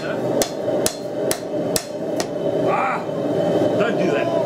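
Hammer blows ring on metal over an anvil while a knife is forged, five sharp evenly spaced strikes over steady background noise, followed by a brief scraping sound.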